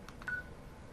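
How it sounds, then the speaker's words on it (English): Keypad button beeps on a Yealink W52P cordless phone, a quick pair of short electronic tones followed by a slightly longer beep, soft and close in a quiet room. "Now back on the phone, I can go, let's see, back, there we go, and I can press OK."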